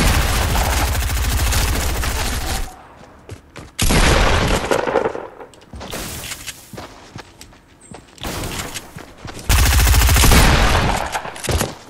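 Shotgun gunfire during an online video game match: loud, close bursts of blasts in several clusters separated by quieter gaps with faint footsteps and movement, no talking.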